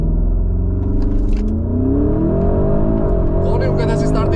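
A Porsche Cayenne Turbo GT engine roars loud and close in a hard launch from standstill, revs climbing steadily as the SUV accelerates toward 100 km/h, a continuous rising rumble with no talk.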